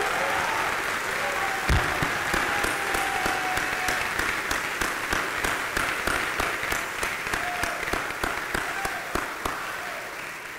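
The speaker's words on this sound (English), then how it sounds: "Would you give these gentlemen a round of applause they deserve?" An audience at a university Crown Forum claps for student government members, dense sustained applause from a large room filling the whole stretch, with rhythmic clapping toward the end.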